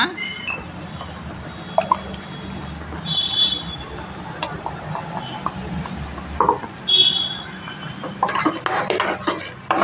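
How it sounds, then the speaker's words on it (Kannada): Water swirls in a blender jar and ground tomato paste is poured into a cooking pan for a tomato onion gravy, with clinks of metal utensils, a short splashy pour and a brief sizzle near the end. "ಜಾರ್ಗೆ ಒಂದು ಸ್ವಲ್ಪ ನೀರು ಹಾಕ್ಕೊಂಡು ಅದನ್ನು ಹಾಕೊಳ್ಳೋಣ"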